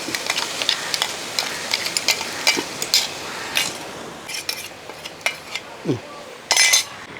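Pineapple pieces go into a hot pan for a sweet Kerala madhura curry, with scattered metallic clinks and scrapes of a utensil against the pan over a faint sizzle, some knocks sharper and louder toward the end.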